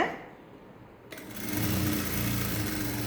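A sewing machine stitching a pocket on cigarette-style pants starts up after a quiet moment and runs in a steady, close, whirring buzz of rapid needle strokes.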